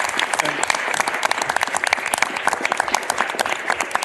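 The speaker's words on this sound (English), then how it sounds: "So round of applause." A crowd at a county board meeting applauds, a dense burst of clapping that continues steadily throughout.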